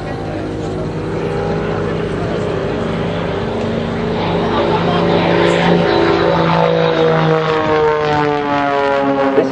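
Extra aerobatic propeller aeroplane performing at Shoreham Airshow, a sustained buzzing engine drone with shifting pitch and harmonic sweeps as it passes, loud and continuous with wind noise, no speech.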